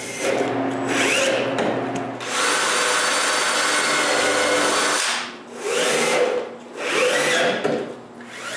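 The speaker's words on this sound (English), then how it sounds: "I just need to screw the 3 pieces together" A power screwdriver drives screws into stacked pieces of plywood at a woodworking bench, with three long whirring runs that build to a strain, the first two broken by brief pauses and the last by shorter gaps.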